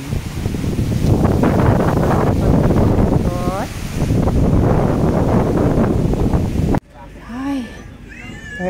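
Strong wind on a mountain summit roars and buffets the microphone continuously, a loud rushing noise that drowns out everything, briefly easing near the end.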